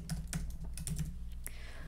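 Typing on a computer keyboard while editing a Word template: a steady run of close, distinct key clicks in an irregular rhythm, heard alone without talk.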